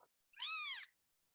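A cat gives a single clear, drawn-out meow, close and fairly quiet, alone with brief silence around it.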